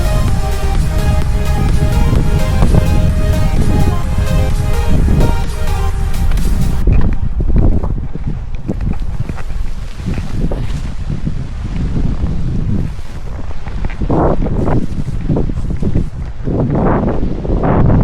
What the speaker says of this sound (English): Ein bisschen starker Wind, aber was kann man machen?